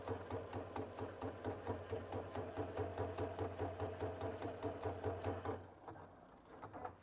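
A Baby Lock sewing machine fitted with a jeans needle stitches a tote bag, a close, rhythmic rapid clatter of the needle for about five seconds before stopping, followed by faint mechanical handling noise.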